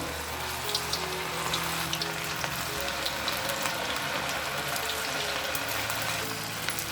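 Cauliflower pieces fry in hot oil with a steady, dense sizzle and bubbling hiss that stays even and close for the whole stretch, with no talking.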